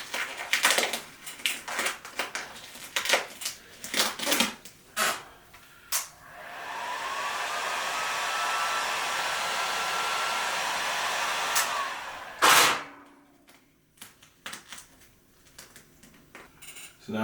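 A heat gun blows steadily for about six seconds while vinyl wrap is heated on a motorcycle helmet, preceded and followed by scattered sharp taps and handling clicks.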